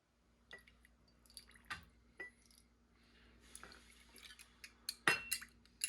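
Sourdough starter being poured and scraped out of a jar, with scattered soft drips, clinks and scrapes of utensil against glass at close range, growing busier toward the end with one sharper knock.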